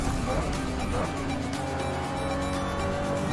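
A Toyota Supra in Forza Horizon 5 brakes hard into a turn during a racing event, its engine roaring steadily with a thin tire squeal rising in the latter half, sustained and loud throughout.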